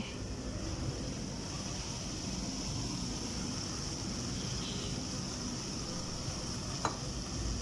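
Separately fried spices go into a pot of mutton achar gosht, which gives a low, even sizzle that runs throughout with a faint crackle and one small clink near the end.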